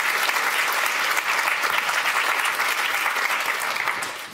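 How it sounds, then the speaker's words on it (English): An audience at a public talk applauds a guest: dense, steady clapping from many hands fills the room at full volume, fading slightly at the end. "So I think she deserves a big, big round of applause."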